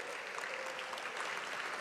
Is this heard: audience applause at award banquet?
yes